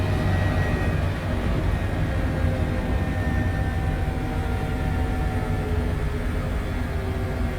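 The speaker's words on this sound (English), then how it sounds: "Right, engines to idle." Airbus H145 helicopter engines idling in Microsoft Flight Simulator, a steady, loud droning whine with a constant tonal hum, holding even throughout with no voices.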